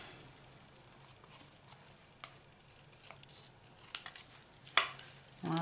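Scissors trim excess paper off a handmade Mother's Day card, with soft snips and paper rustles building to a few crisp, louder cuts near the end, close and quiet.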